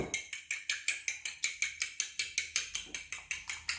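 Rapid, regular clicking taps, about four per second, steady and close, a utensil beating egg mixture with salt in a bowl, with no talking.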